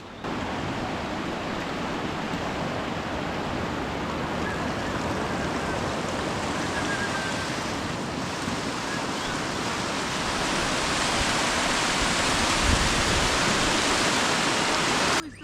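Steady rushing meltwater stream flows loudly and continuously beside a high mountain pilgrimage trail on the Amarnath Yatra route, a broad unbroken wash of water noise that swells slightly louder toward the end.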